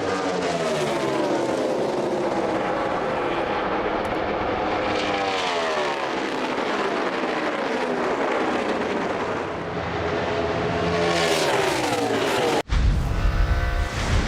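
NASCAR race cars racing on track, with Kurt Busch's 78 car chasing Denny Hamlin for the lead: loud, continuous engine roar with rising and falling pitch sweeps as cars pass, ending in a sharp change to another close engine snarl.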